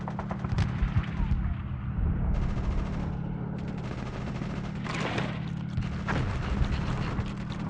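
Gunfire in Conker's Bad Fur Day, muffled repeated shots blended into a steady low droning background, moderately loud with bursts of noisy crackle rising and falling throughout.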